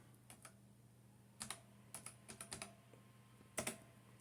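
Password being typed on a computer keyboard for an FTP client login on a ZX Spectrum setup: a few scattered keystrokes, then short bursts of quick clicks with a last double tap, close and fairly quiet over a steady hum.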